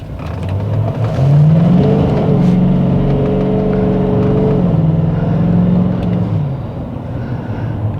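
A big, heavy diesel pickup truck pulls away from a standstill, its engine droning loud and close with a rising then settling tone through about seven seconds of steady acceleration, with no talk.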